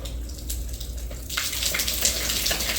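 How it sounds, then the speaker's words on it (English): Water rushes out of a rust-clogged pipe, starting as a thin hiss and swelling into a louder, steady gush partway through, close by with no talking. "Got water coming out of here now."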